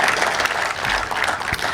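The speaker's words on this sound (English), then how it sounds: "Please give this village a round of applause." An audience at a Florida State University gathering claps in sustained, dense applause, loud and continuous throughout with no speech over it.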